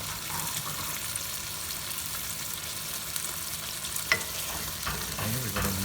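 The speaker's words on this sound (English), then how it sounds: "we're going to mix this onion paste well" A spoon stirs white onion paste in a hot pan for pork vindaloo, a steady close sizzle with scraping and a few louder knocks near the end.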